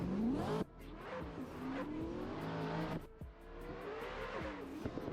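Two drift cars launch into a tandem run at a drifting competition, engines revving hard with rising pitch sweeps and tire noise, loud and close, with a brief cut as the second car follows.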